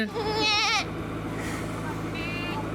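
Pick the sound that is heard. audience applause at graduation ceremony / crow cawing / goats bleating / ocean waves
goats bleating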